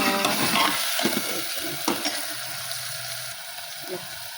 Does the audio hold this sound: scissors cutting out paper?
no